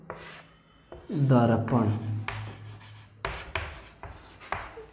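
Rubbing, rasping strokes of writing a definition on a board in a Class 10 physics lesson on plane mirrors, with several short scratchy bursts around a teacher's brief speech.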